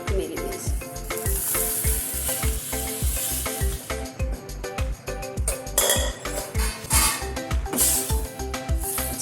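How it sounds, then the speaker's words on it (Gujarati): Chickpeas tipped into boiling Delhi-style chole gravy and stirred in a pot, with continuous sizzling and bubbling, scraping stir sounds, and a steady run of rhythmic low thumps throughout. "હવે આપણે આ ચણામાં ઉમેરી દઈશું।"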